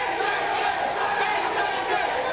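A wrestling crowd at an NWA Wildside TV show in the Lazz arena chants and yells together, a dense, loud sustained roar of many voices with no break.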